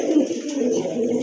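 A pigeon coos close by, one soft, low, rolling call lasting about a second.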